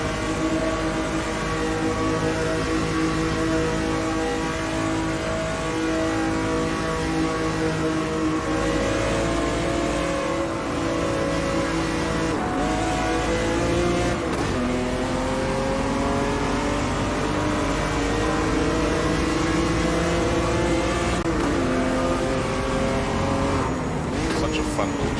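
Race car engine in Automobilista 2, droning steadily for the whole stretch and rising and falling in pitch through gear changes on a short track with long sweeping curves, while someone talks over it.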